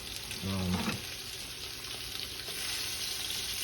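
Mushrooms fry in a little vegetable oil while a Salisbury steak is being made, giving a steady broadband sizzle throughout, with a brief voiced sound near the start.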